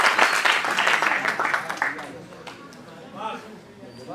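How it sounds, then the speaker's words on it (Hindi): Applause from the audience at a BHU kavi sammelan poetry gathering, a burst of many clapping hands that fades after about two seconds, followed by a voice speaking. "अब एक बार जरा जोरदार तालियां बजा दे उनके लिए"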